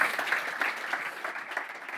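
Brief applause from a tech conference audience, scattered claps of uneven rhythm at moderate volume, thinning somewhat toward the end.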